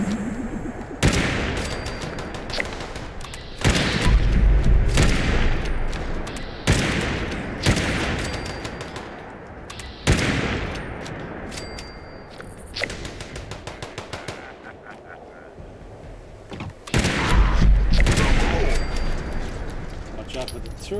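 Rapid turret fire and explosions in the video game Fallout 76, loud bursts of automatic gunfire in repeated volleys with heavy thuds, continuing almost without pause over a long stretch.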